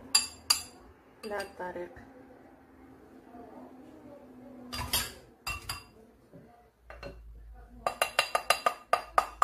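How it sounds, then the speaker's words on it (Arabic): A small spoon clinks against a glass while whipped cream is layered in, with scattered taps early and then a quick rhythmic run of bright clinks at the end. Someone speaks between the taps. "نجيب شي معلقه صغيره، جبت معلقه صغيره ونقاد في الكاس"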